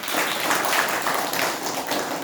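A dense, steady wash of audience applause fills the room, many hands clapping together at an even loudness with no voices over it.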